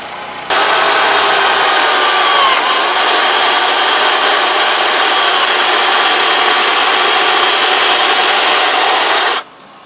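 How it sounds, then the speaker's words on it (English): An electric chainsaw cuts through a timber truss rafter beam, a loud, steady, close whine-and-rasp lasting several seconds before cutting off abruptly. "We did it with that electric chainsaw right there."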